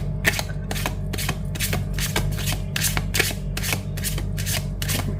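Tarot cards being shuffled in quick repeated riffles, about a dozen crisp papery bursts in steady rhythm, close and clear over a low background hum with no talking.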